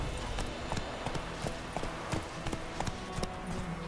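Hooves of Roach, a horse in The Witcher 3, clip-clop in a quick, steady rhythm of sharp, distinct thuds over a rumbling game background, close and clear with no voices.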